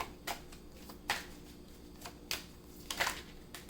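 Tarot cards being shuffled by hand, a few soft riffling bursts and flicks spaced irregularly, quiet and close with no talking.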